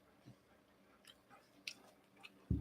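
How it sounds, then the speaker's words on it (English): Soft, close mouth sounds of someone chewing salmon at a meal: faint, wet chewing and small bites over a quiet background, with a louder thump at the end. "I'm chewing my salmon."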